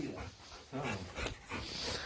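A puppy whimpers and whines in short, close bursts, with faint panting between them.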